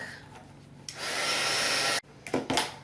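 A small dryer blows loudly over a craft page for about a second, a steady whooshing hum that cuts off abruptly, followed by a few brief handling noises close by.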